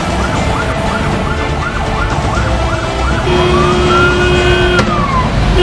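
A loud ambulance siren wails in quick repeating cycles, then shifts to a long rising and falling tone, with traffic rumbling underneath.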